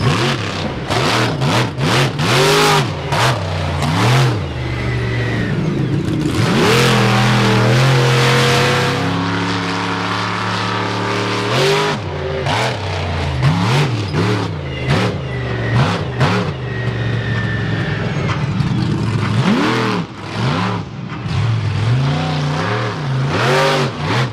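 Lucas Oil Bigfoot monster truck engine roaring through a freestyle run at the Fall 4-Wheel Jamboree Nationals in Indianapolis: loud, near revving with repeated rising and falling pitch sweeps and steady bursts of throttle throughout.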